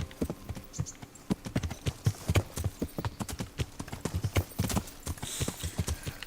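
Horse hooves clip-clopping steadily in the video game Kingdom Come Deliverance, a quick, even gait of clear hoofbeats with faint background ambience and no talk over it.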